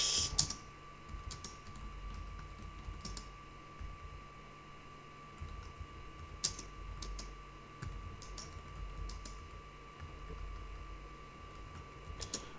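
Quiet clicking of a computer keyboard, with scattered keystrokes and short bursts of typing over a faint steady electrical hum.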